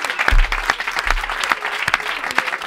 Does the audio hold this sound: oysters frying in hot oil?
no